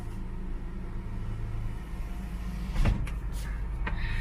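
A 2005 BMW M3 convertible's power top finishes closing with a low motor hum and clunk, then the electric windows rise, marked by a few sharp mechanical thumps near the end; no one speaks.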